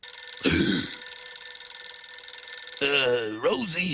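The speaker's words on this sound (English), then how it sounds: "Just can't stand the sound of a phone ringing." A cartoon telephone rings with a steady electronic bell trill running throughout, close and clear, while voices talk over it in short bursts at the start and end.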